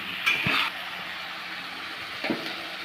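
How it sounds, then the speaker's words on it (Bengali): Onion paste frying in a pan with whole garam masala, bay leaves and cumin, a soft steady sizzle with a couple of brief scraping stirs near the start and end. "পেঁয়াজটা হালকা ভাজা হোক দেখাচ্ছি"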